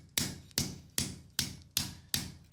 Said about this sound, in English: we're going to come in with our cross peen. We're going to gently begin rolling our handle.